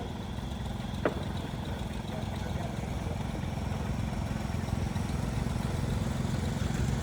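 An International Cub Cadet Model 102 gear-drive garden tractor runs with a steady low engine drone throughout, one sharp brief click near the start, at an outdoor heritage tractor parade.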